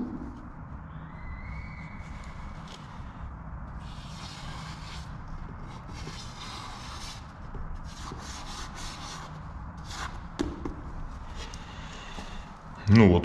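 A Molotow chrome paint marker gliding across a smooth, clean surface, a faint scratchy rubbing of strokes in short bursts beneath quiet background sound.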